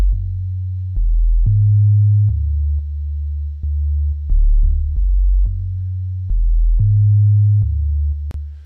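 A deep, smooth sub bass synth line plays alone, holding sustained low notes that shift pitch every second or so in a steady repeating pattern.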